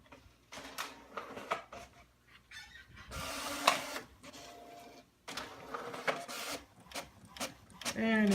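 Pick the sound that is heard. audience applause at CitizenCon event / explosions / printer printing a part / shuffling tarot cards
printer printing a part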